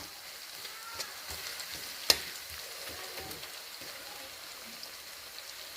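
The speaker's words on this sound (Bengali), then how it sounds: "পেঁয়াজ কুচি দিলাম, সামনে একটু জিরা, আস্ত জিরা দিলাম, তেল দিলাম, শেষ। এখন একটু কষাবো।" Chopped onion, whole cumin and oil sauté in a pan, giving a steady, soft sizzle with occasional light clicks and stirring scrapes nearby, with no talking.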